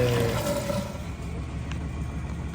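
The drain pump on a Maytag Centennial washer runs with a low, steady motor hum and the rush of water draining, fairly quiet and continuous.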